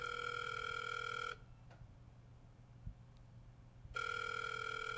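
A phone rings with a sustained electronic tone, pauses for a few seconds of near silence, then rings again.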